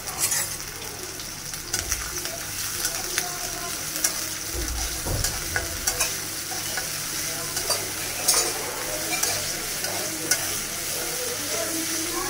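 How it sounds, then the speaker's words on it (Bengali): Shrimp fry in oil in a wok with a continuous bright sizzle, broken by the scraping and clinking of a spatula stirring them, close and steady throughout. "মূলার শাক ভাজি করবো, চিংড়ি মাছ একটু তেল দিয়ে দিলাম"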